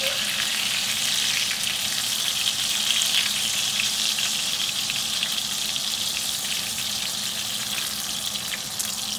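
Chicken fried steak fries in hot grease, giving a steady, bright crackling sizzle with scattered pops, continuous and close, with no talking.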